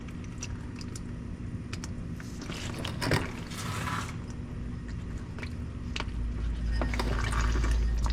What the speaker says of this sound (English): At least we have 2 exhaust pipes for this oil to fall onto.